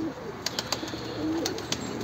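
A tutak pigeon gives soft, low cooing close by, with a few sharp clicks and small bird chirps over a steady background hiss.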